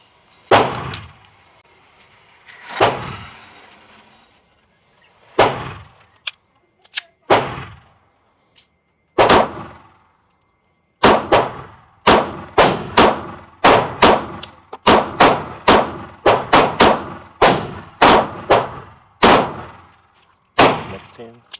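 An FN Reflex XL pistol fires loud, sharp gunshots at close range, a few spaced shots at first, then quick, evenly paced strings of shots with brief pauses between them.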